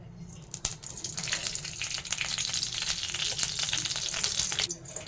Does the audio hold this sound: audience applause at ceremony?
no